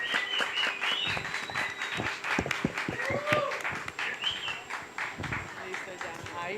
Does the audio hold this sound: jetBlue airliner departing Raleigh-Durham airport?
no